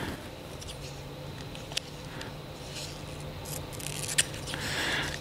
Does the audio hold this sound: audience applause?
no